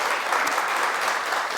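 Dense, steady audience applause filling the space continuously, a thick wash of many hands clapping at once with no gaps and no voices standing out.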